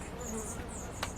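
Guard bee buzzing close at a hive entrance, a brief wavering insect drone with a short louder flick of wings near the end.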